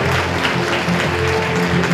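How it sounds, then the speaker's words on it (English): An audience at an international judges' association annual meeting applauds to welcome Dr. Morris Chang, founder of TSMC; dense, even clapping fills the room continuously at a steady level. "Please, our applause to welcome Dr. Morris Chang."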